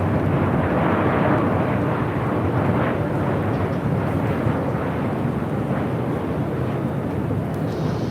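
An Air Canada Boeing 737 MAX 8 arriving from Vancouver at LAX, landing on runway 24 left, gives a loud, steady jet roar that fills the whole stretch, with wind buffeting the microphone and no talk.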